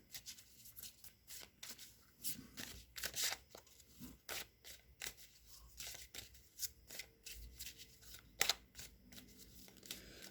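Someone shuffles tarot cards up close, with quick irregular riffles, flicks and taps across a quiet room and no talking.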